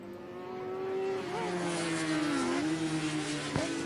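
Stock car race engines heard as a steady droning whine that rises and dips in pitch as the cars pass, moderately loud with a faint rumble beneath.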